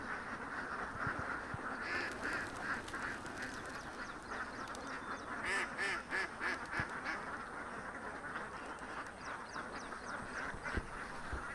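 A busy chorus of ducks quacking continuously at moderate distance at Kadambrayar, with overlapping calls and occasional louder bursts from the flock.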